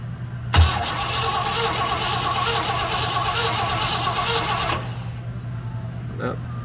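A classic car engine with low compression cranks over steadily for about four seconds during a compression test, a continuous mid-pitched churning that then stops, with no speech over it.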